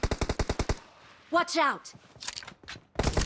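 Rapid automatic gunfire in a BGMI (Battlegrounds Mobile India) team deathmatch, a tight burst of about eight shots followed by scattered single reports and another burst at the end, with players shouting over it.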